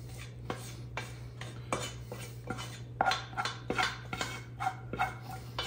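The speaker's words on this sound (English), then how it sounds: "So I'm gonna add us a bunch of rice." Cooked rice scooped from a container and dropped into a metal pot for homemade boudin sausage, with a steady run of close spoon scrapes and clinks against the pot over a constant low hum.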